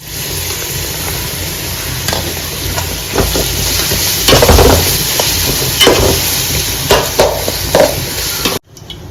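Onion with ground ginger, garlic, green chili and cumin paste frying in a pan, a loud continuous sizzle with occasional scraping stir strokes, cutting off abruptly near the end.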